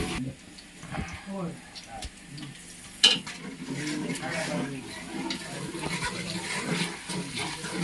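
Garlic paste sizzles as it fries in a pan, a soft frying hiss with a sharp clink near the middle, and people talk over it throughout.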